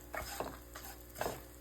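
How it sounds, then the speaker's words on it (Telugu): Sesame seeds, dry grated coconut and dry red chillies are stirred and dry-fried in a pan, a soft continuous sizzle broken by three or four distinct scraping stir strokes at a steady pace. "ఇవన్నీ వేసి బాగా ఫ్రై చేస్తాను"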